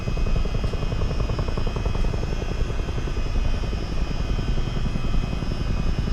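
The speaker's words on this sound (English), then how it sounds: "This aircraft is actually fairly fun." Twin-rotor CH-47 Chinook helicopter in flight in Microsoft Flight Simulator, a steady loud rotor thump with engine whine holding constant throughout, no talking over it.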